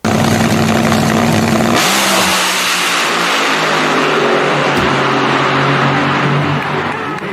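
The LS3 V8 in an Ultima RS car fires up loudly, roars through a sharp opening blip, then settles into a strong, lumpy idle close by with no talking.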